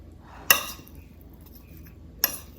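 A utensil strikes a bowl twice while panzanella bread salad with basil is mixed, two sharp metallic clinks about two seconds apart over quiet, faint rustling.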